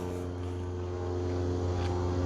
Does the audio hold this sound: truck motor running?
yes